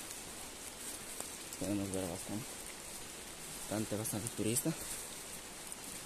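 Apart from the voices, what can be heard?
rain on the trail to Gocta waterfall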